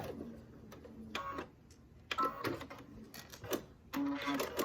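A sewing machine stitches across the corner of an heirloom quilt top in several short, moderately quiet runs separated by brief pauses and clicks.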